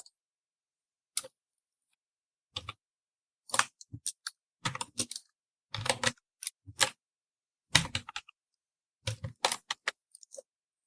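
Bursts of clicky keystrokes on a computer keyboard come in short, irregular clusters separated by silent pauses, close and fairly quiet, with no talking.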